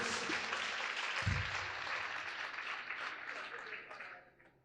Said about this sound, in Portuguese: Dê uma salva de palmas para você.